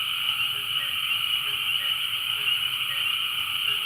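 A nighttime frog chorus from the edge of the woods in the countryside, with continuous overlapping croaks forming a steady, shimmering drone that never pauses.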